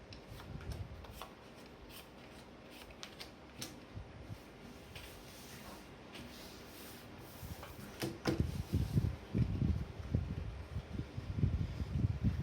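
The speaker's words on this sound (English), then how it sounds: "I'll shuffle the Princess Bride cards" A deck of Princess Bride playing cards is shuffled by hand up close, with soft rubbing and light ticks that build into denser, louder riffling bursts toward the end.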